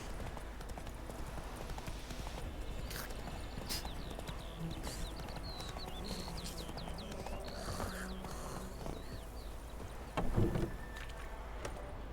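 Roach the horse in The Witcher 3, hooves clip-clopping in a steady rhythm over constant outdoor ambience, with a brief louder thump near the end; no one speaks.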